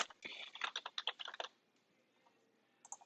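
A quick flurry of keystrokes on a computer keyboard, about a dozen close, crisp taps in a fast burst lasting over a second, then quiet before a couple of final taps.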